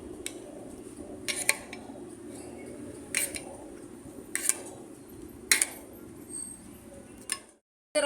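A spoon mixes fruit such as peaches and fruit cocktail into cream in a bowl, with sharp clinks against the bowl every second or so over a soft, steady scraping.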